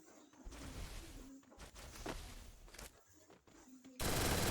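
Rapid gunfire in Call of Duty Black Ops 6 during a one-on-one match, with bursts of shots and impacts running nearly the whole time and a loud, dense blast of noise near the end.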